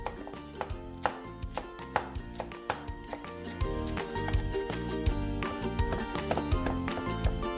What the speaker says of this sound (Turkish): Şöyle kerevizin biraz sapından, biraz yaprağından alıyorum. Bunu ince ince doğrayacağım.